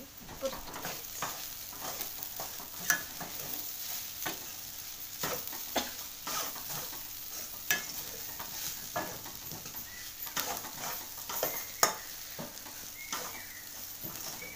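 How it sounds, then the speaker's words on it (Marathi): Garam masala and chopped coriander being sautéed in a pan, a steady soft sizzle broken by repeated sharp scrapes and clicks of a spatula stirring, close up with no talking. "वरनं गरम मसाला, कोथिंबीर आणि हे परतून घ्यायचं."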